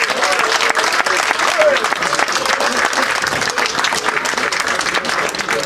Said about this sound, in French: Je vous demande de faire un tonnerre d'applaudissements à Jean-Marie Lebros.